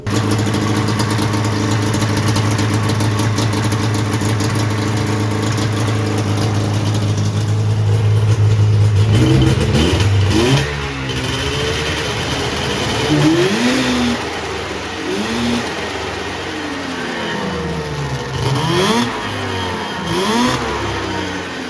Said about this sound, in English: as you heard there, the thing was idling great, and it had a slight hesitation off throttle